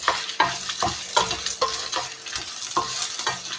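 Green chillies frying in oil for namkeen murmura chivda, a close sizzle broken by a rhythmic series of stirring scrapes and spoon taps roughly every half second, no voices.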